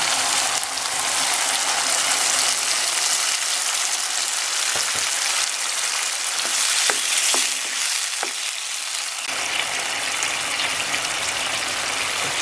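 Sardines with spinach simmering in a pan, a loud continuous bubbling sizzle with scattered clicks and scrapes of utensils partway through, no voices over it.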